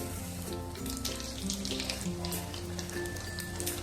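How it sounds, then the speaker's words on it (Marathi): Mustard seeds and urad dal spluttering in a ladle of hot oil, a close, busy sizzle with scattered sharp pops and crackles running steadily for about four seconds. "मोहरी चांगली तडतडली."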